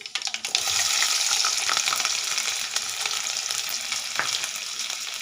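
Oil sizzles and crackles loudly and steadily as cumin seeds and crushed garlic fry, with a sharp spattering burst at the start and occasional stirring clinks.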